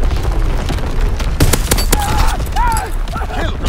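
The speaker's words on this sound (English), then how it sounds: "Incoming enemy artillery. Get to cover. Enemy anti-aircraft fire." Battlefield noise in Call of Duty WW2, with enemy artillery and anti-aircraft fire booming and crackling in loud overlapping bursts. A sharp volley lands near the middle, and whistling tones and a faint voice sound beneath it.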